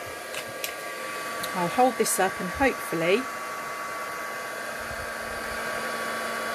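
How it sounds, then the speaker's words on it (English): A heat tool blows steadily to set gold embossing powder for a heat-embossed heart, a constant whooshing hum running throughout beneath a brief spoken remark. "I'm now going to bring my heat tool back in again"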